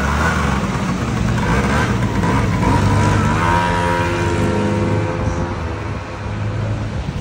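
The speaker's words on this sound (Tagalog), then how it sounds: "Dahil tumatakbo na ang ating motor" A SYM Jet motor scooter engine runs steadily at close range, a constant buzzing drone with a slight drop in level near the end and no talk.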